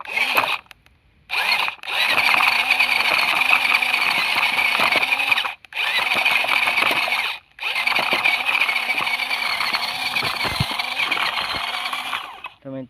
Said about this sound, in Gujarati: ચાલો મિત્રો, જોન ડિયર ટ્રેક્ટર તાકાત લગાડી રહ્યું છે